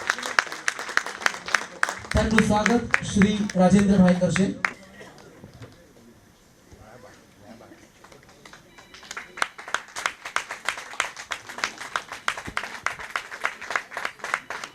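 Audience applause and clapping welcome a guest onto a stage at a Rangmanch Seva Foundation event in Ahmedabad, a loud dense burst of clapping that rises after brief talk and fades out, with a voice speaking over it.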